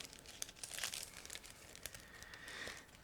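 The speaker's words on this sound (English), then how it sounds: "It's also sealed, so that's why I will be using scissors in order to open it." Scissors cut open a sealed plastic bag holding clear sprue from a 1/35 scale plastic model kit, the plastic crinkling and rustling softly up close for a few seconds.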